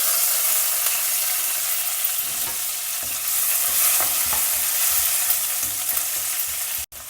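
Green chillies, curry leaves and dal stir-fry in a hot pan, a steady close sizzle broken by repeated scraping strokes of a spatula, with a sharp clunk near the end; no voices.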